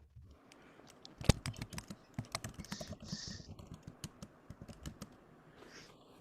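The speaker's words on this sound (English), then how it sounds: "I hear typing." Computer keyboard typing during an evening online speakers' panel, a steady run of quick, moderately close key clicks with one sharper, louder strike early on, and no talking.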